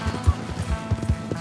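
Hooves of a horse clip-clop in Red Dead Redemption 2, a short run of close, evenly spaced thuds over faint game ambience.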